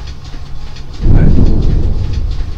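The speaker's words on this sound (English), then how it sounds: "Just heard some thunder." Thunder: a deep, heavy rumble that swells in abruptly after a quieter stretch and keeps rolling loudly to the end, with faint background noise before it and no speech.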